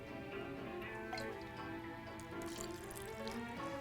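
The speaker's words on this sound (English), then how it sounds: "So we're going to add more water." Tap water runs steadily into a kitchen sink while beignet dough is being mixed, a continuous close splashing hiss with faint drips and ticks and no talking.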